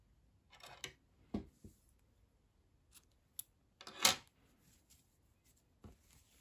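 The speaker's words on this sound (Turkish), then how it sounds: "İpliği burada kesiyorum." Scissors snipping sewing thread during knitting or crochet work, a few soft close clicks and snips scattered over a quiet background, one sharper cut standing out near the middle.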